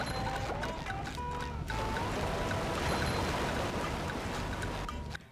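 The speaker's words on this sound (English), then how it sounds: "Some sound effects can drown out music and other effects, such as the notorious waterfall in Jellyfish Fields." Waterfall in Jellyfish Fields from the video game SpongeBob SquarePants: Battle for Bikini Bottom, a loud, continuous rushing wash of water that swamps the background music, with faint melodic tones poking through.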